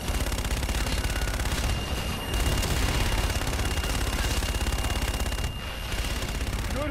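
Aircraft strafing gun run in the Call of Duty: Infinite Warfare video game roars as dense, continuous rapid gunfire, loud and close, with two brief dips in the stream of shots.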